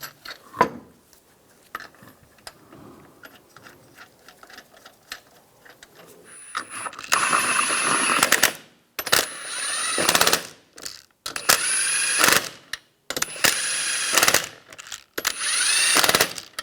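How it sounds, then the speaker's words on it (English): A Toyota Prius front wheel gets its lug nuts run on with a power tool, in loud ratcheting bursts separated by short pauses, after quieter handling clicks at the start. "Put the wheel on. Put the lug nuts on."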